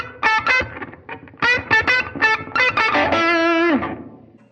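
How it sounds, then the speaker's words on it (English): Electric guitar with a reverb effect plays a quick phrase of plucked notes, then a sustained ringing chord that trails off, loud and alone with no talk. "The next guitar effect on our list, reverb."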